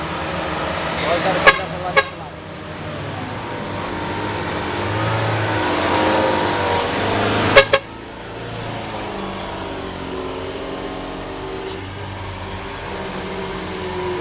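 Truck engines rumble and rev through a busy street scene with several sharp horn blasts, amid crowd noise and voices.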